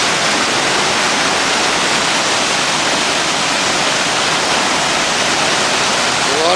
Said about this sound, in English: A lot of water coming down there right now.